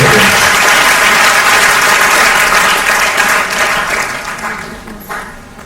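Loud applause from the audience at a Safer Internet Day 2016 event, sustained clapping that gradually fades toward the end with no talking.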